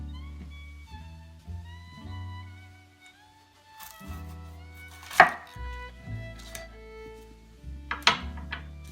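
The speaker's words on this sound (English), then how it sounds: "The first step is to cut an onion." A knife cuts through an onion on a board, giving a few sparse, sharp chops and slices near the end, with quiet tonal sounds in the background and no talking.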